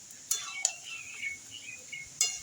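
A spoon stirs chicken and potato curry as it sautés in a pot, giving a few sharp, quiet metallic clinks spaced apart over a low, steady kitchen background.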